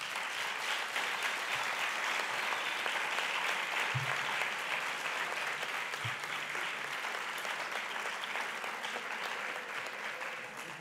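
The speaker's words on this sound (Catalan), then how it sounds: "Però els podem aplaudir igualment." A small audience at an awards ceremony applauds continuously for around eleven seconds, a dense, even wash of clapping that tapers slightly at the close.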